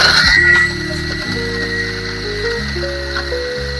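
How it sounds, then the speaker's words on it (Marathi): A kitchen mixer grinds rice, fresh coconut, jaggery, cardamom and banana, a loud, close motor drone with steady mechanical whine whose pitch shifts in steps as the load changes. "ओलं खोबरं, गूळ, थोडस मीठ, वेलदोड्याची पूड आणि केळ हे वाटून घेऊयात"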